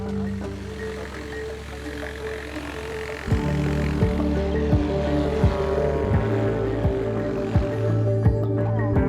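A light aircraft flies along with a steady, droning propeller engine that thickens partway through, its low hum punctuated by regular rhythmic pulses.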